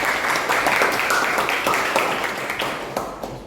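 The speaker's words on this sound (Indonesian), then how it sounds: "Kita berikan aplaus dulu untuk mereka" A group of students in a physics class applauds, steady clapping from a room of people that fades toward the end.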